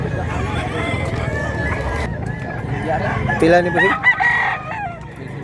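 Chickens and roosters at a market cluck and crow near and loud, with a rooster's crow breaking out over people chatting and bargaining.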